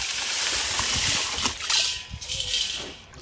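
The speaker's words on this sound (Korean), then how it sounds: "소금이 잘 녹을 수 있도록 저어주세요" Salt is stirred into water to brine kimchi cabbage, giving soft sloshing and swirling water with a few light clinks and rattles, close and moderately loud, with no voices.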